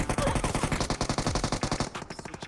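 Rapid automatic gunfire in PUBG Mobile, a steady fast burst of loud, evenly spaced shots lasting about two seconds before tapering into fainter scattered reports.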